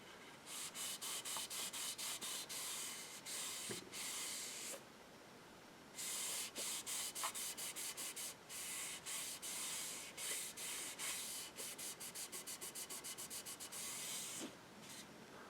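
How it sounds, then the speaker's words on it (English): A cloth rubbing paste wax onto a 1972 Aries AR-730K digital kit clock, steady close back-and-forth swishing strokes in quick rhythmic bursts with brief pauses between runs. "Little paste wax puts on a nice protecting finish"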